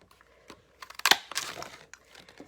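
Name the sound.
punching out a stamped daisy from paper with a craft punch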